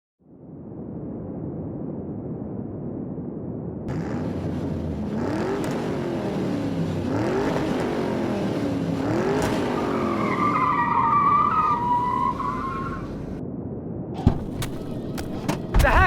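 A car engine roars steadily and builds as it speeds closer, then a long, loud tire squeal of skidding near the end, followed by a few sharp knocks.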